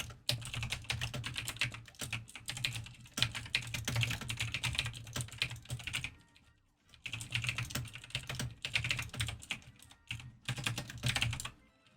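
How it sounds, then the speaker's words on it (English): Rapid typing on a computer keyboard, heard close and continuous as a dense patter of key clicks, with a short pause midway before the clatter resumes. "I can hear my typing."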